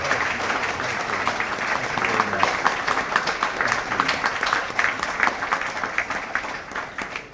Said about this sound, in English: Now please help me welcome with a rousing applause our esteemed featured speaker, Mr. Michael Steele.